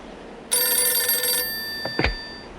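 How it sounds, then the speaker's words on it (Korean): A landline telephone rings once with a bright, sustained metallic bell trill, then cuts off into a couple of short handling clicks and thumps, close and without any talking. "그러던 도중 갑자기 유선 전화기가 울리더랍니다."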